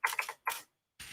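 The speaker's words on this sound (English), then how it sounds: "I'm so bad at typing." Quick keyboard typing during video editing, two short bursts of clattering keystrokes separated by brief pauses, close and fairly quiet, with no voices.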